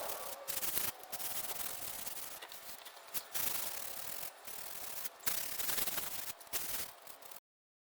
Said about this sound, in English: now I'm going to flatten this just to get it as smooth a surface as possible